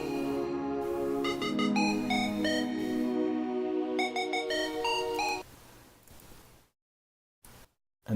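A soft synth melody enters in a makina track built in FL Studio, with bright plucked notes stepping over a warm, sustained backing before fading out to silence.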